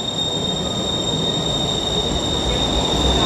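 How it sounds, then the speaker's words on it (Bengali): Bangkok BTS Skytrain pulling out of Nana station, a steady loud rumble of rail cars with a high wheel whine running through the whole stretch, close to the platform. "এই মুহূর্তে আমি দাঁড়িয়ে আছি বিটিএস নানা স্টেশনে, আর এই একটা বেরিয়ে যাচ্ছে"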